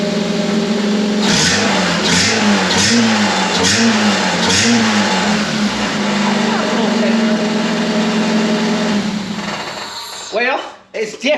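A Honda car engine with its catalytic converter removed, exhaust pipe still fitted, revs loudly in a series of rising surges, then holds a sustained raspy roar nearby before cutting off; a voice talks briefly over it.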